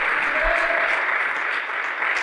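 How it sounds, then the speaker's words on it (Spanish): Steady applause from a church congregation, a dense continuous wash of clapping hands that holds evenly throughout without pause or swell. "Démosle esas palmas al Señor como una ofrenda de agradecimiento por su obra."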